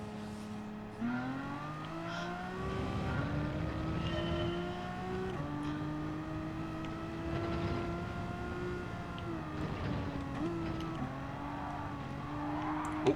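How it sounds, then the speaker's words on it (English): A front-wheel-drive car engine in a racing video game drones steadily and loud, its pitch stepping up through repeated gear shifts as it accelerates, with no talk over it. "Oh, front wheel drive car."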